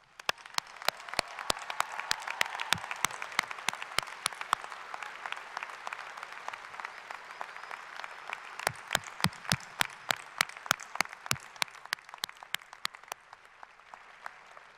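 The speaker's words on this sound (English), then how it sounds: "I would like to ask the crowd to give them a roaring round of applause" A commencement crowd breaks into loud, sustained applause for a group of standing students, dense clapping swelling early, thinning briefly mid-way, then surging again before tapering off.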